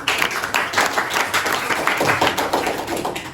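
An elementary class in an Indonesian classroom claps hands together in a quick, rhythmic chant-like pattern of bursts, fairly close and filling the whole moment without speech.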